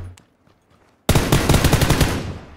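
Sustained automatic fire from an M4 rifle in PUBG, a rapid burst of loud, close shots starting abruptly after near-silence and running steadily for over a second before tailing off.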